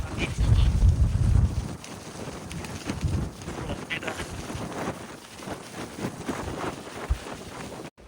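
Strong, cold wind buffets the microphone on an exposed mountain road on the way from Tagong to Yading in eastern Tibet, a steady rumbling roar with heavy gusts, loudest at the start, while someone talks over it.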